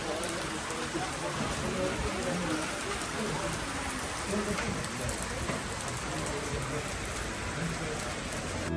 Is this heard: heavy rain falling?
yes